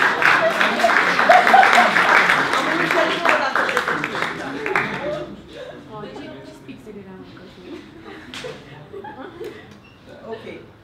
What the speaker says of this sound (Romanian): să-l aplaudăm pe Cosmin și un metru de Timofte.